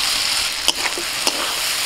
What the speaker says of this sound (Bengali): এখন ভাজা আলুগুলো দিয়ে দিচ্ছি